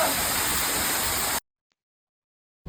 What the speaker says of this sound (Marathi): इथे आम्ही बी फॉल्स या धबधब्यावर आलेलो.